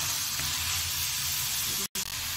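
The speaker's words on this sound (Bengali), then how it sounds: "আর একটু ভাজা ভাজা করে নেব" Chilli egg bhurji frying in a pan, a loud, dense and continuous close sizzle with a brief cut near the end, and no talking.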